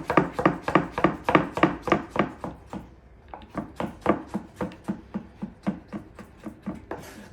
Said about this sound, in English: it's chopping.